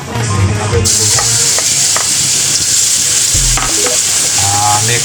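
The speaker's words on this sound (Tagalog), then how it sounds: "Lagyan na po agad natin yung bawang." Garlic hits hot oil in a pan for a shanghai-style milkfish dish, setting off a loud, continuous sizzle with stirring and scraping clatter on top.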